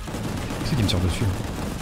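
Gunfire from enemies shooting at the player in the action game Gungrave G.O.R.E sounds as a dense, continuous rumble of shots and blasts, loud and steady throughout, with voices faintly mixed underneath.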